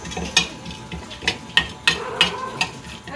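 Cloves toasting in a pan are stirred with a utensil, giving about seven sharp scraping clicks against the metal at uneven intervals over a faint continuous sizzle, close up with no talking.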